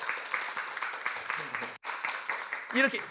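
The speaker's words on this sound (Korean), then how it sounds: "박수 쳐주세요" Applause from a lecture audience greeting a professor: steady, fairly close clapping that breaks off briefly near the middle, then resumes, with a voice speaking near the end.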